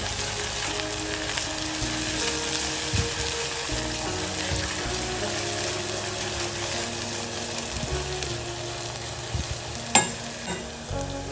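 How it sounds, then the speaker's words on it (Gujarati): Garlic and chili paste sauté in a pan for a dry cowpea curry, making a steady, even sizzle throughout with occasional light clicks of stirring. "હવે એને પણ 1-2 મિનિટ સુધી સાતળી લઈએ."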